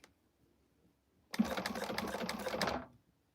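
A sewing machine stitches a short run through a quilted cactus loop on a Primavera quilt, a steady rapid burst of stitching lasting about a second and a half after a quiet start, close and moderately loud.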